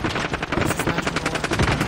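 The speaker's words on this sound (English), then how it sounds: "Bullets going over." Rapid automatic gunfire from Call of Duty: Modern Warfare Warzone, a dense stream of bursts with rounds cracking overhead, loud and continuous for the whole stretch.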